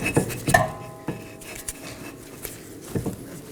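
Brake caliper on a 2018-2024 Chevrolet Equinox rear wheel sliding over the rotor, a few close metallic clanks and rattles followed by lighter scattered taps, no talk.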